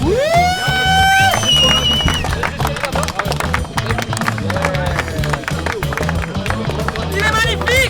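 A crowd claps and cheers at a French drift championship podium, a dense ongoing patter of hands under a loud announcer's voice and music-like tones.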